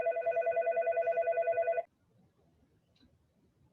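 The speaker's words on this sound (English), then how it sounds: "The phone rang and interrupted." A telephone bell rings in a steady repeating pattern for almost two seconds, loud and close, then cuts off and leaves near silence with faint background noise.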